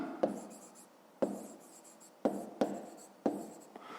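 A pen writing a fifth-grade math exercise by hand on paper: five distinct scratchy strokes, each starting with a sharp tap and then trailing off, close and quiet with gaps between.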